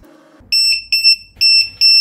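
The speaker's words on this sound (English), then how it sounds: "So this buzzer is very, very loud as you can hear." A Lantian RC XT60 in-line low-voltage battery alarm buzzer sounds in four loud, piercing electronic beeps with short gaps between them, each one steady and shrill, after a brief low hum.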